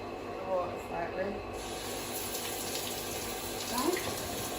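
Steady shower spray running continuously during a dog's pre-hydrotherapy wash, a broad even hiss that holds throughout.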